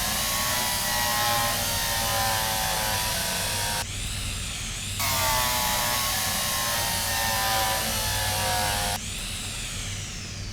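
A steady, loud mechanical whine of drilling in the train simulator game Derail Valley, with grinding broadband noise, briefly shifting pitch twice as the drill cuts in and out; no voices.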